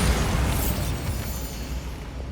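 Bombarda spell blast in the video game Hogwarts Legacy: a loud, dense rumbling explosion that fills the moment and slowly thins out.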